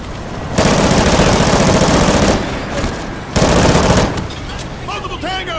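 Machine gun fire in Call of Duty: Ghosts: two long, loud, close automatic bursts separated by a brief lull, then fading rattle as a voice begins to speak.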